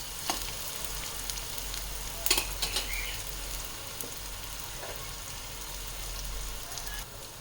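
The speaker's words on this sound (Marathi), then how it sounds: "कांदा छान परतून घ्यायचा आहे बारीक गॅसवर" Onion frying gently in a pan on a low gas flame, a soft continuous sizzle with a few brief spatula clinks and scrapes, over a low steady hum.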